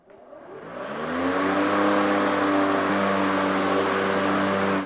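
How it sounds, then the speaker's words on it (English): A PowerSmart 80V battery-powered lawn mower starts up, its motor whirring up over about a second into a steady, loud, even hum that holds close by with no talk. "To turn this mower on, all you gotta do is simply push down here"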